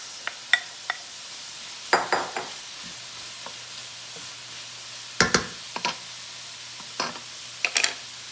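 Chopped mushrooms in a pan with a faint sizzle underneath and scattered sharp clinks and scrapes of a utensil stirring, no talking.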